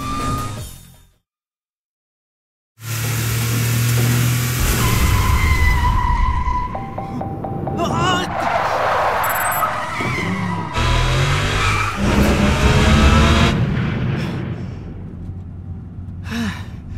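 A car in the Binary Domain video game skids and revs through a chase, engine roaring with tire squeals and gunfire-like bursts mixed in, loud and continuous after a brief silent gap.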